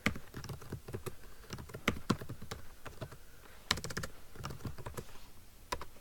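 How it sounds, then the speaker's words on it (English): Typing on a computer keyboard while entering dates into accounting software, a steady run of light clicky keystrokes with a few louder taps, close and alone with no talking. "We would type in our dates for February."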